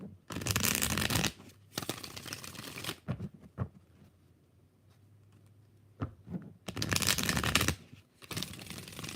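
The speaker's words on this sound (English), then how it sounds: "4 more shuffles." Tarot cards are riffled and shuffled in two loud bursts, with quieter handling and soft taps in between, close by with no talking.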